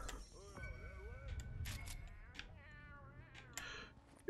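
Several cat meows and yowls from the Meowscles boss in Fortnite, mixed with in-game clicks and thumps.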